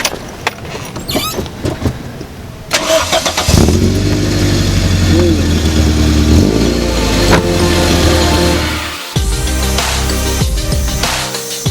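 A 1992 Toyota Great Corolla car cranks briefly and its engine catches, then settles into a loud, steady idle close by, with a short dip before the running note resumes; faint handling noises precede the start.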